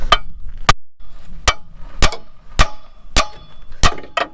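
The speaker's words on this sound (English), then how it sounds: "you can give it a couple good wraps with a hammer" A hammer strikes the ball joint on a truck front end during a front-end rebuild on a GMT 400: eight sharp, loud metallic blows in a fairly even rhythm, with faint clatter between them.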